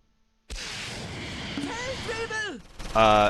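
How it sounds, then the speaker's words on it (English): Gunfire and battle noise in the wargame Close Combat IV set near Baugnez in December 1944 with tanks and a half-track, a dense loud roar with whistling descending tones, then a sharper burst at the end. "Who's shooting?"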